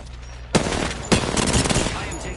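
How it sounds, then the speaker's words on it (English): Video game gunfire striking the player: sharp loud impacts, with two strong hits followed by a rattling flurry of rapid shots and crackle. "I am taking fire, friend."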